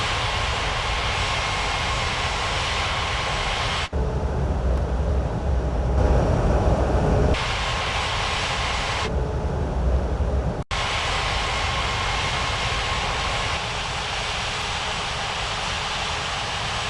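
An aircraft taxis at Springbrook airport in the evening, its engine giving a continuous steady drone with sudden shifts in level, and no talk.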